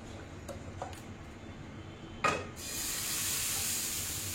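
Moong and oats batter goes onto an oiled griddle over low gas, setting off a steady, fairly quiet sizzle that holds after a brief clatter, with a few faint taps before it.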